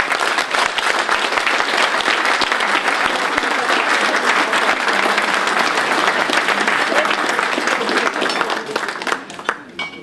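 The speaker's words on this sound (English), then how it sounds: "owe it to yourself to give yourself a huge round of applause" An audience at a 2014 Christmas party gives a loud, sustained round of applause, dense steady clapping that holds for the whole stretch and begins to thin near the end.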